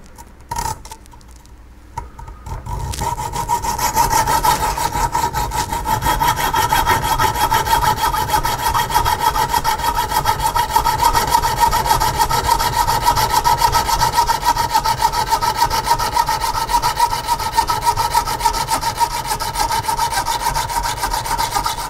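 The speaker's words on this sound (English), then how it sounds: "I found using a hacksaw just as good." Close, steady back-and-forth strokes of a hacksaw cut through a soft metal boat windshield frame, a continuous rasping rhythm that runs for about twenty seconds after a brief quieter start.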